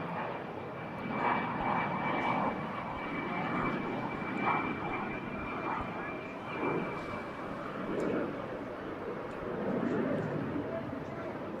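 A single-engine old jet powered by a de Havilland Goblin centrifugal turbojet flies past at an airshow, its steady distant roar filling the air beneath a commentator's voice.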